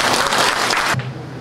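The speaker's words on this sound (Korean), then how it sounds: "다 함께 또 축하의 박수 한번 쳐주시기 바랍니다" A burst of audience applause at a chairman's inauguration ceremony, dense and steady for about a second before cutting off abruptly into room quiet.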